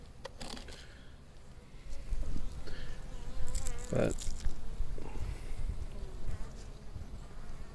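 Honeybee cluster buzzing in a hive opened for winter feeding, a soft continuous hum under light handling noises, with a brief word spoken.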